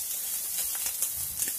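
Garlic and ginger sautéing lightly in a pan for a vegetable Manchow soup, a soft steady sizzle and hiss at moderate level with faint clicks of stirring.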